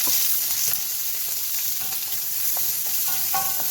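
Onion, chili, sliced ginger and garlic sizzle steadily in a small amount of oil, a continuous close frying hiss with faint clinks of stirring throughout.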